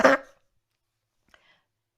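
A single short, rough cough bursts out during a breathing exercise, followed by near silence with a faint tiny click.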